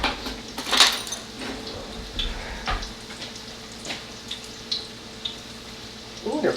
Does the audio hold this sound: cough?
no